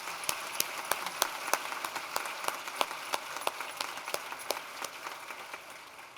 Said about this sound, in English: All right, so can we give one more round of applause for our panelists?